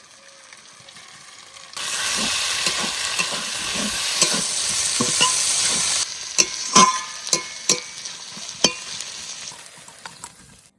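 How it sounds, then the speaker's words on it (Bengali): Fish fat frying in a pan with tomato and brinjal, a strong close sizzle that starts abruptly and holds steady, joined later by sharp spattering pops and stirring clinks. "মাছের তেল ভাজা হয়ে গেছে, সুন্দর তেল ছেড়েছে।"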